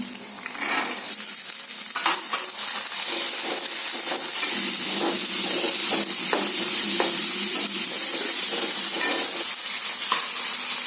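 Peas, French beans and carrots fry in oil inside a pressure cooker for paneer pulao, giving a steady, close sizzle with repeated stirring scrapes and light utensil taps, no talking.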